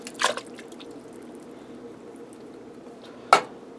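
Drained canned diced tomatoes drop into a pressure cooker with two wet, squishy plops, one at the start and one near the end, separated by a quiet stretch of kitchen background.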